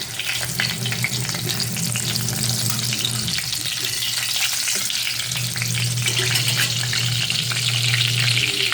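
Loud, steady sizzling and crackling of marinated pork belly frying in hot oil over high heat, with occasional stirring scrapes, continuous throughout.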